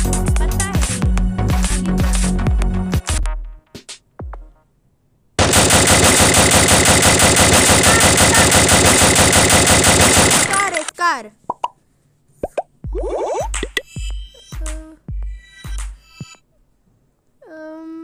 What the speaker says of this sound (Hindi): ये गन साउंड वाला ही करते हैं गाइस ये गन साउंड